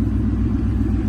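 A 2001 Ford Mustang SVT Cobra with a 6-bolt crank and a Borla Attack catback exhaust idles close by, giving a steady, deep, rowdy rumble with no talking.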